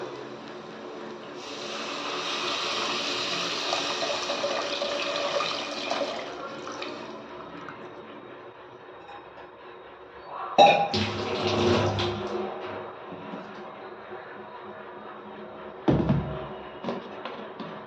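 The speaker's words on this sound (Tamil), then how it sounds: "இந்த டைமில் நம்ம புளி தண்ணி எடுத்து வச்சுருக்கோம் இல்லையா, சேர்த்துக்கலாம்." Tamarind water poured into a pan of fish curry, a steady liquid pour lasting several seconds followed by clattering and brief splashes, close and moderately loud with no talking.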